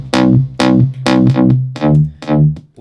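Processed synth bass from an electronic track, heard as a sequence of short, buzzy, distorted bass notes in a steady rhythm, bright and harmonically rich, loud and close with no other sounds.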